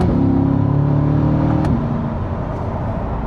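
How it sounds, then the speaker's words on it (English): A Chevrolet C8 Corvette engine holds a loud, steady rev close by, its tone shifting and easing slightly after a brief spike near the middle; no talking. "It's just an amazing sounding vehicle."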